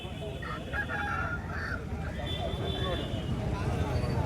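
A rooster crows at a busy hen market, a short raised call rising over a constant crowd murmur and scattered clucking, with people talking throughout.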